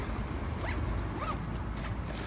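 A backpack zipper pulled in a couple of quick strokes as something is put inside, close and crisp over faint outdoor background noise.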